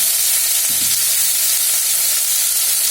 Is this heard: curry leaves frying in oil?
yes